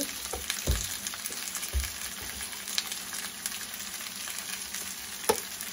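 Cooking oil sizzles steadily in a pot while bangus paksiw is prepared, a close continuous crackle with a few sharper pops and stirring knocks, no talk over it.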